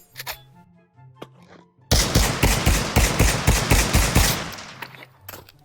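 A clip-fed bolt-action rifle in the Pavlov VR shooter, modeled on a World War II bolt action. After a short quiet stretch with faint sounds, a sudden run of loud, evenly spaced close shots rings out, then fades back to quiet.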